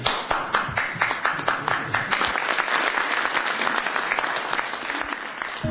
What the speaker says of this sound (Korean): 미국에선 박수가 터져나왔지만